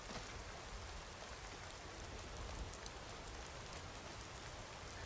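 Rain falls steadily in the Skyrim video game over the overcast Whiterun tundra, a faint, even hiss of downpour with no pauses and no speech.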